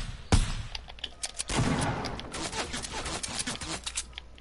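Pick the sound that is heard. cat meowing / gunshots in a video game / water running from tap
gunshots in a video game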